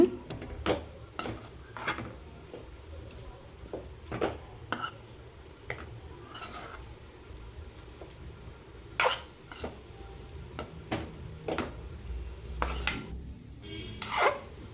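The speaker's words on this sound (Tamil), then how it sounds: "இந்த மாதிரி நல்லா கிளறி விட்டுருங்க" A utensil stirs boiled amaranth greens (sirukeerai) in a pan while chutney is being made, giving close, intermittent clinks and scrapes against the metal at an uneven rhythm, with no talking.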